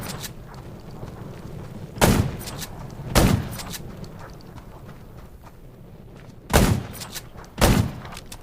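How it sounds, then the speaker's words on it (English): Gunshots in the zombie survival game Garena Undawn: four sharp, loud reports in two spaced pairs over a low ambient background, with no talking. "Gunshots will attract more zombies."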